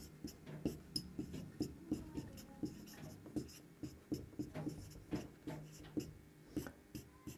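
Chalk or marker writing on a classroom board during a Hindi math lesson on circle area, giving a steady run of soft tapping and scratching strokes at close range with no speech.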